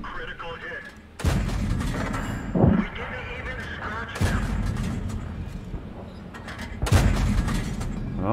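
Tank cannon shots and shell impacts in the World of Tanks video game, several heavy booms spaced a few seconds apart, loud and close, with a player talking between them.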